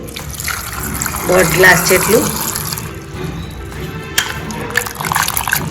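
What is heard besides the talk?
water poured into a pressure cooker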